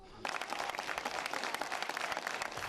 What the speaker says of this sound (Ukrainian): Ось такими оплесками винниківські болівальники зустрічають футболістів Дніпропетровського Дніпра